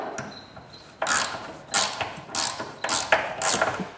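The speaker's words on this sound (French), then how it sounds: "je peux visser les 2 vis du pivot" Pivot screws being driven by hand into a wooden tablet for an X-Carve CNC machine, with several bursts of close creaking, ratcheting screwdriver turns separated by brief pauses, no talking.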